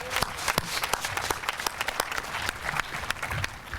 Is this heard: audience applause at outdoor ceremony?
yes